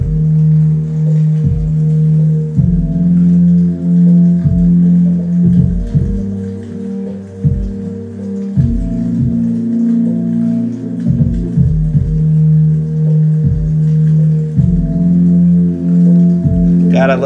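Lo-fi beat with drums and a few added instruments layered in, sustained tonal chords and melody over a steady rhythmic pulse, played loud and continuous with no talking.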